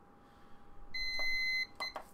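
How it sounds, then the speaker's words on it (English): An exercise timer gives a short electronic beep after being reset, a clear tone lasting under a second followed by a couple of faint clicks, alone in a quiet room. "Reset the timer."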